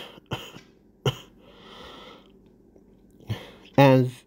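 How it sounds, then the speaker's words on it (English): A creature character coughs up blood in a monster movie: a few sharp, wet, close coughs and throat sounds spaced apart, ending in one loud, rough burst. "he's coughing out blood."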